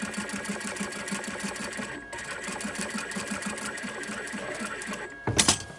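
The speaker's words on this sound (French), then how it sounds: "alors c'est très épais, mais votre machine va très bien le coudre." A sewing machine runs through thick fabric for a cloth drawstring pouch, sounding as a fast, even mechanical stitching rattle close by, with a brief pause midway and a louder clunk near the end.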